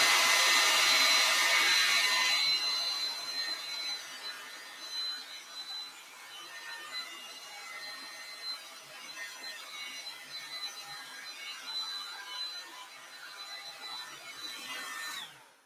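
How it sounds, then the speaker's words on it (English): A hair dryer blows loudly at first, then continues at a lower, steady whir for the rest, with a faint high whine throughout. "Let me hit this with the hairdryer first."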